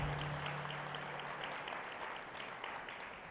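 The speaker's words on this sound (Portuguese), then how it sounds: "Podemos aplaudir a Deus." A church congregation claps steadily together, a dense wash of applause that tapers slightly toward the end, with a brief tone at the start.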